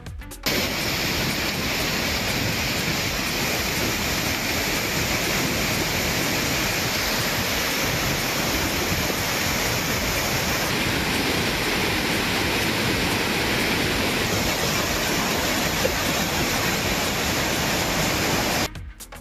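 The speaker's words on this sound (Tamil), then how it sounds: "அணைகள் நிரம்பி திருப்பரப்பு அருவிக்கு தண்ணீர் வரத்து தொடர்ந்து அதிகரித்து வருகிறது" Water pours over Thirparappu waterfall in Kanyakumari, swollen by heavy northeast monsoon rain and full dams. A loud, steady roar holds for the whole stretch, with no voices.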